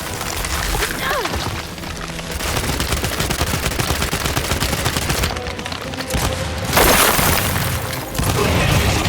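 Dense, sustained gunfire in the video game Gears 5 during a boss fight, continuous bursts with loud crashes and impacts throughout, a big blast near the end, with people talking over the action.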